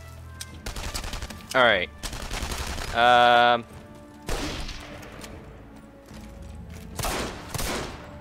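Gunfire in the World War II shooter Enemy Front: several loud separate shots and short bursts cracking out between pauses, with a player's voice speaking briefly in between.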